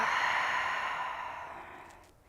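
A single long, soft exhale through the nose and mouth during a yoga breathing exercise, breathy and close, fading gradually to quiet.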